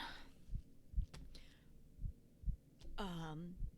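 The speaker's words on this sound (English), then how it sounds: "Heartbeat. That is just way too fucking loud." Game heartbeat effect in 10 Candles: a slow, heavy, regular thumping of about seven beats, quiet overall, with a brief voice and other faint game sounds breaking in over it.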